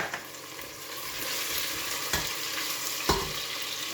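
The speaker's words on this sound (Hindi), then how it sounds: "प्याज बहुत अच्छे से फ्राई हो गई है।" Steady, loud sizzling of onions frying in a hot pot, with occasional stirring clanks against the metal.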